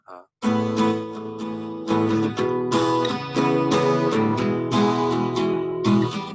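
Strummed acoustic guitar chords ring out in the intro progression of a song, several changes in quick succession, loud and close with no voices.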